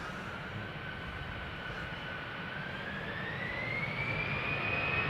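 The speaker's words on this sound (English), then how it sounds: "EasyJet lined up, ready to go" An EasyJet jet airliner lined up for takeoff at Schiphol whines steadily at a distance, its engine tone rising gradually as the rumble grows slightly louder toward the end.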